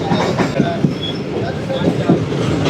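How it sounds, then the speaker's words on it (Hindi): The Karakoram Express rolls along at reduced speed in darkness, a dense continuous rumble with rhythmic wheel clicks on the rails, heard from on board and loud throughout. "बहुत स्लो कर दी ट्रेन ने स्पीड।"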